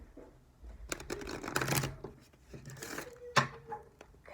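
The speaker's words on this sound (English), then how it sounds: "Okay, I'm going to do another shuffle." A deck of cards is shuffled by hand during a card reading, soft riffling bursts and flutters with a couple of sharper snaps, close and fairly quiet with no talking.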